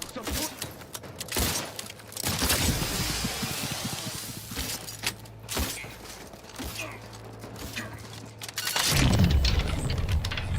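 Gunfire in The Outer Worlds 2, played on the hardest difficulty: several sharp bursts and clattering shots with mechanical weapon noises, mixed with other game sounds.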